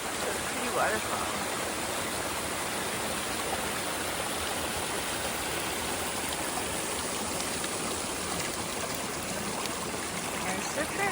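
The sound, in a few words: waterfall on the Appalachian Trail, Smoky Mountains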